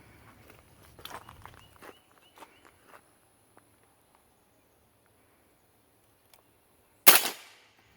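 A suppressed 11-inch short-barreled rifle fires subsonic 7.62x39 rounds outdoors: one sharp, loud crack stands out near the end, preceded by faint shuffling and soft knocks.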